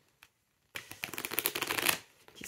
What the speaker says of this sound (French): les cartes, c'est la première fois que je les mélange. Donc, elles sont un peu raides